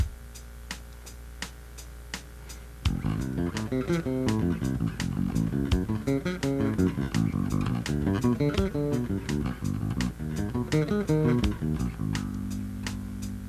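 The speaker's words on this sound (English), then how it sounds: "Let me play it with the drum machine." A ticking drum machine beat plays alone briefly, then a bass joins with alternating major and minor arpeggios moving up and down the neck in a continuous flowing line.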